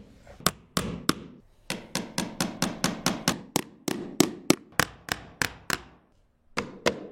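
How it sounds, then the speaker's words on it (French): A hammer drives nails along the baseboard edge while carpet tiles are laid, a long run of sharp, close, evenly paced blows with a few short pauses. "Et clouez."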